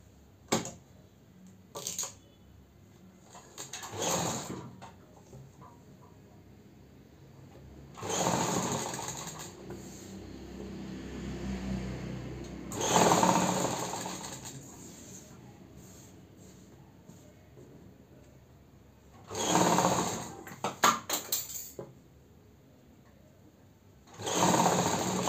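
A sewing machine stitches a narrow fabric strip along the neck of a Punjabi ladies' suit, running in several close bursts of rapid whirring separated by pauses, with quiet handling sounds between runs.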